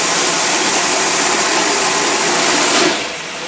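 An engine fitted with a Carter carburetor roars loudly and harshly at its rev limiter during a carburetor test, the limiter cutting cylinders to hold the speed below 5,500 RPM, before the sound eases off near the end.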